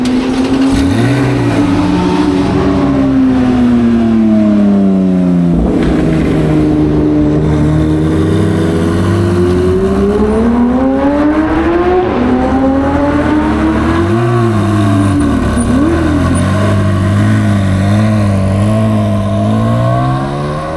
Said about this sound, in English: you could hear a Ferrari coming from half a kilometer away